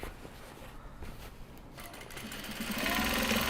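A sewing machine runs steadily at close range, its whirring growing louder and faster toward the end, with no voices.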